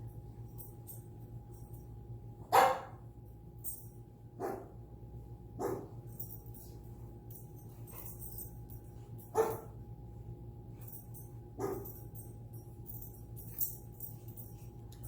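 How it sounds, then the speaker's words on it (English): A single dog named Lucy barks indoors at a few seconds' intervals, sharp isolated woofs over a low steady hum. "Who's barking? It's Lucy."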